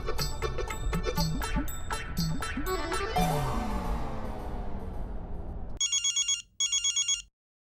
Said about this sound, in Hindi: अरे भिड़े का फोन।